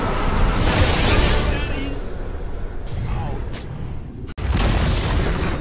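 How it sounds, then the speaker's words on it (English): Combat from a Dota 2 match with a tower under attack: a dense rumble of booms and impacts runs throughout, with a brief sharp dropout near the end before the noise resumes. "Dire's top tower is under attack."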